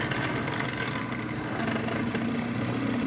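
A 1968 Oldsmobile distributor spins on a test machine, giving a steady mechanical hum and rattle that runs evenly throughout.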